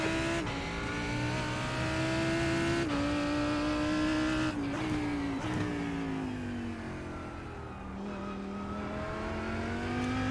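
Race car engine drones loudly and continuously in a sim racing game played on a Thrustmaster TX wheel, pitch rising through gears and dropping at shifts, with occasional tire noise.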